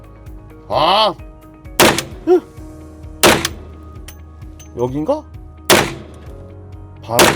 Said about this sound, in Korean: 이렇게 10발 쏴봤는데 와, 셉니다.